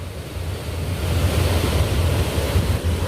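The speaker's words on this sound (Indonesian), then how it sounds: "yang di bendung ini adalah bengawan Sungai Kali Brantas, sebuah sungai atau kali terbesar di Provinsi Jawa Timur" Water of the dammed Brantas River rushing at a large weir in Mojokerto, East Java, a steady broad roar of churning flow with wind buffeting the microphone, continuous and loud, no voices.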